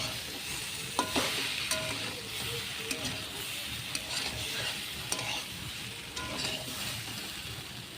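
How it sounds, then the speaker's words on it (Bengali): Potato and taro with chili powder fry in a pan with a steady sizzle, broken by occasional stirring scrapes and light clinks of the utensil, close by and without speech. "আর একটু ভেজে নেব।"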